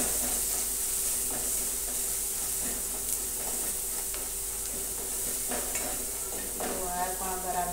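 Chili powder and spices stirred into bottle gourd and chana dal cooking in a pan, a steady close sizzle with soft scraping stirs throughout and no talking.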